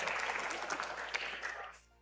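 A crowd cheers and applauds at the MCSR Ranked Minecraft speedrunning world championship, a dense, steady wash of clapping and shouts that fades near the end.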